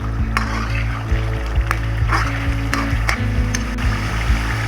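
Chopped ginger and green chilies frying in a karahi for chicken white karahi, a loud close sizzle with repeated spoon clinks and scrapes against the pan.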